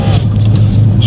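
An Audi Sport quattro's engine roars loud and close in a steady, deep rumble with no pause, alone with no talk.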